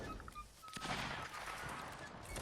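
Musket volleys in Mount & Blade: Warband Napoleonic Wars, a castle siege battle, crackle as dense overlapping shots through the whole stretch, loud and continuous with a few sharper reports standing out.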